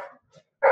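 Pet dogs bark in a short burst, one loud close yelp with fainter barks or yips before it, as they join in with a neighbour's dog.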